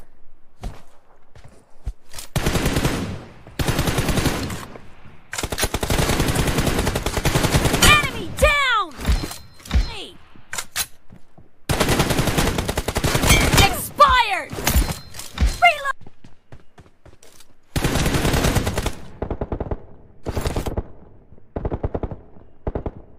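Rapid automatic gunfire bursts from a team deathmatch shooting video game, loud and close, broken by short gaps and occasional footsteps, with game announcer voice and a player talking between volleys.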